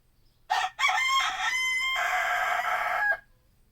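A rooster crows once, close and loud, a drawn-out call in several segments lasting almost three seconds, with faint low background hum around it.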